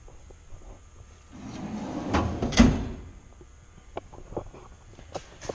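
A drawer on a new PSK tool box slides open and shut in one short, fairly loud rumbling sweep, followed by a few faint clicks and knocks in a quiet room.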